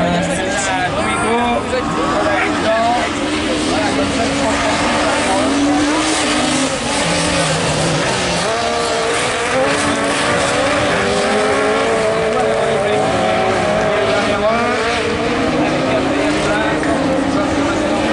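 Super 1600 rallycross race cars on a track at Dreux in the French championship, engines screaming and revving loudly as they pass with brief tyre squeals, under continuous excited commentary and crowd noise.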